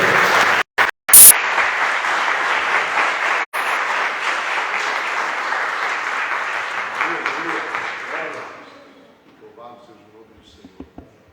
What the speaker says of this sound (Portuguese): E as palmas glorificam o nome do Senhor